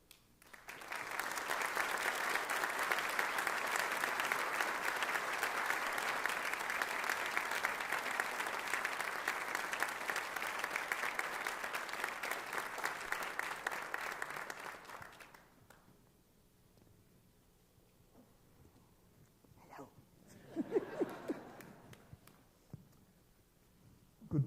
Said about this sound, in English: Please, let's give a big hand of applause.